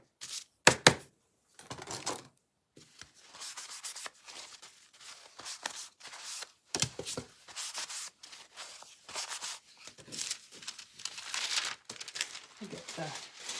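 Dust being wiped off a paper surface during a craft project, intermittent close rubbing and crinkling strokes in bursts separated by brief pauses, with a couple of sharp taps near the start.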